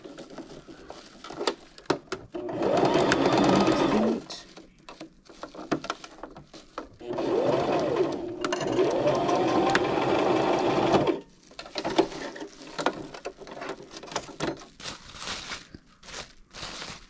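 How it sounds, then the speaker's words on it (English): A sewing machine stitches pieces of a tulle tutu anklet together, running in two long steady bursts of close, loud whirring with quieter handling sounds in the pauses between them. "And then I'm just going to sew all the way down."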